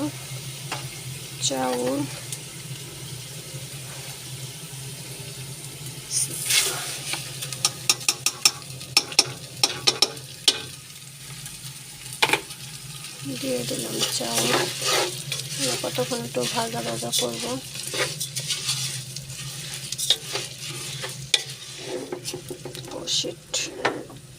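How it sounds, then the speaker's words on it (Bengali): Rice fried and stirred in a pan, with a steady sizzle and repeated scraping strokes of the spatula, close and fairly loud, and occasional voices under it. "চালটা সুন্দর করে ভাজা ভাজা করলাম দেখুন"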